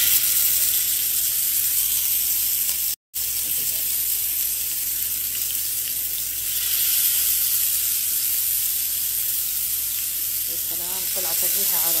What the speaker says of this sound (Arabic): سخنت عندي المقلى حق الشوي هنا، حطيت فيه شوية زيت وراح أرتب فيه.